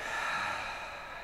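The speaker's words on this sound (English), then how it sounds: "take one more full breath from your nose, inhale" One deep breath drawn in through the nose during a yoga relaxation pose, a soft airy hiss lasting about a second, close and quiet with no other sound.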